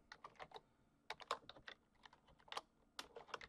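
Quick keystrokes on a computer keyboard, typed in short bursts with brief pauses, faint and close with no talking.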